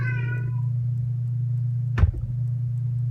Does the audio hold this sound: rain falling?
no